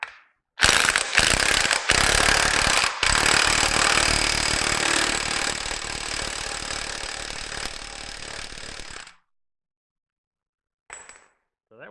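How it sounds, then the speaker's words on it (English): A pneumatic nut gun rattles hard on a Massey Ferguson 135 tractor's steering spline nut, a loud, dense burst of ratcheting impacts lasting about eight seconds with brief gaps near the start, then silence and a faint clink. "So, look what I do, I go for the nut gun."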